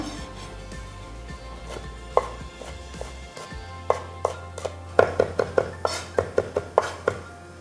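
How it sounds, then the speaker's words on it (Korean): A knife chops finely on a cutting board, mincing green onion and garlic for a Korean chiljeolpan dish: sparse taps at first, then a quick, steady run of sharp close knocks, with no talking. "파마늘도 곱게 다져야지 깨끗하게 나올 것 같아요"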